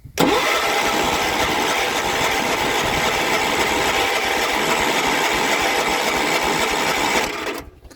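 An old engine cranking over on a cold start with the throttle fully raised and the choke seized: a loud, steady, rapid mechanical whirring for about seven seconds that then abruptly stops.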